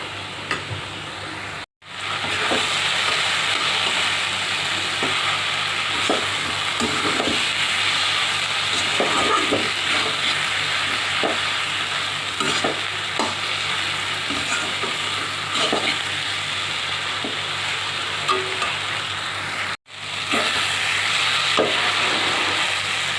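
Leafy greens stir-fried with a dried chili tempering sizzle steadily in a hot pan, with scattered clicks of stirring over a continuous frying hiss, loud and close, with two brief cuts of silence.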